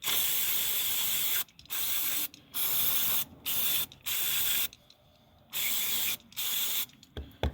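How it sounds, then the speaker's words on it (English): Electrical contact cleaner sprayed from an aerosol can during a machinery repair. The sound is a series of loud, close hissing bursts, each lasting about half a second to a second, separated by short silent pauses. "this is specifically contact cleaner, specifically for electrical components"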